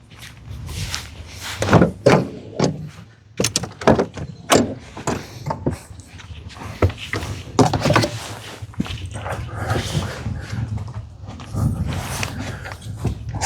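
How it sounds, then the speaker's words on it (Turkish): A caravan awning at a riverside forest campsite is opened with a series of close, uneven clunks, rattles and scrapes, broken by short pauses. "Ben tenteyi açıyorum."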